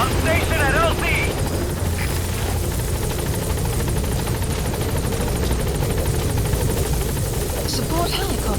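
A support helicopter arrives at a landing zone in Metal Gear Solid V, its rotor thrumming loud and steady throughout, close by, with radio chatter over the top.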